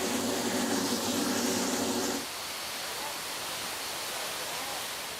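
A large water organ fountain on the lower terrace of a Mediterranean garden rushes loudly and then cuts off sharply about two seconds in as its valve wheel is turned, leaving a much quieter, softer wash of water behind.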